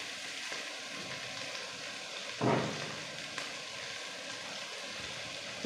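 Meatballs and onion sizzling in a frying pan give a steady, close hiss, with a brief louder crackle burst partway through and a few small pops.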